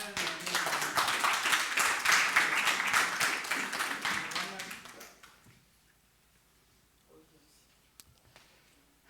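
Loud congregational applause and cheering at a French-language church service, steady and dense for about five seconds before fading away into near quiet with a few faint sounds.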